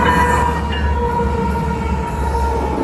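A CN freight train rolls steadily past at close range, a loud continuous rumble of wheels and cars on the rails with a sustained tonal hum, and no voices.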